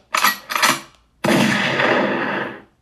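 Video-game gunfire for a headshot: two quick bursts of shots, then a longer, louder burst that rings on for over a second before cutting off, heard alone.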